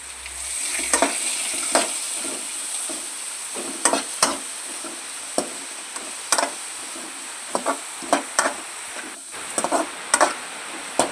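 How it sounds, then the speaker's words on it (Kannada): Food fries in a pan over low gas, a steady hiss with frequent sharp clicks and taps of a utensil against the pan throughout. "ಹಾಗೆ ಫ್ರೈ ಮಾಡ್ತಾ ಇದ್ದೇನೆ."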